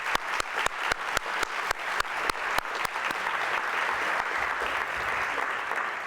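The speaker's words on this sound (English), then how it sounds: "Please let's give them a round of applause." Audience applause at a 45th anniversary gala luncheon, opening with distinct spaced claps that build into continuous, even clapping from the whole room.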